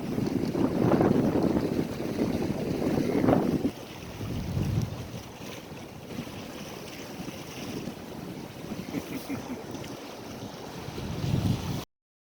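Sailboat Crow under sail between Penetang and Beausoleil's Chimney Bay, with strong wind buffeting the microphone over steady rushing water and waves against the hull, loud and continuous without speech.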